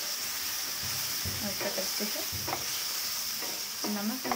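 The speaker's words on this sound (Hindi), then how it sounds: "हल्दी भी डाल दिया चिकन को थोड़ा सा फ्राई कर लेती हूँ" Chicken pieces frying in a pan with salt and turmeric for an egg chicken ghugni, giving a steady background sizzle with intermittent stirring scrapes, and a voice speaking briefly over it.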